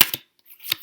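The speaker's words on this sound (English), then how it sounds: "I'm shuffling them and that came out because I'm looking for a card." Tarot cards are shuffled by hand in a few quick, crisp riffling bursts separated by brief silence, close and fairly loud.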